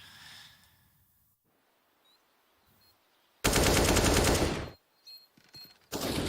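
Gunfire in Counter-Strike during a NaVi vs FaZe Clan ESL Pro League quarter-final, heard as a loud sustained burst of rapid automatic shots after a quiet stretch, followed by a few scattered shots and another burst at the end.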